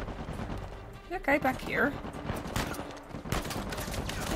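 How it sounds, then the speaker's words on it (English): Enemy gunfire in Uncharted 4 comes in bursts of rapid shots at mid distance, mixed with booming impacts, while a player talks over it. "There's like bullets coming from over here"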